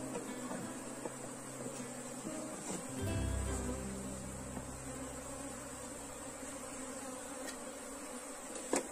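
A honeybee swarm buzzes in an open hive, a faint continuous drone with a brief louder low rumble of handling partway through and a soft knock at the end.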